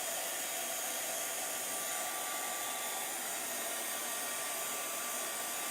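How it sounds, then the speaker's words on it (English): A heat gun blows a steady, unbroken rush of hot air onto a painted wooden Valentine sign, a loud hissing drone that holds level throughout with no voices. "I like watching my lines disappear using the heat gun."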